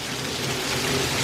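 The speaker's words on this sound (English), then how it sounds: "I got more running in the rain to do." Rain pours down steadily outdoors where a child is playing, a loud, even wash of hiss with no breaks and no voices.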